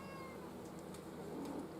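A faint, drawn-out cat meow, soft and close, over a quiet room background.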